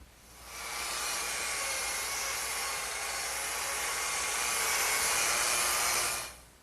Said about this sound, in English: scrape off this excess glue and sand it down